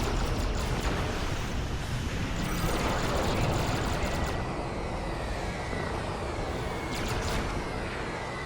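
Plasma bolt fire in the Star Trek Online space game, a dense, roaring wash of weapon blasts and rumbling explosions that stays loud and continuous throughout, with brief crackling bursts layered on top.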